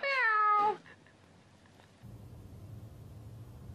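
A cat meows once in a high, drawn-out call inside the Big Brother Australia house, close and loud for under a second, then gives way to quiet room noise and a low hum.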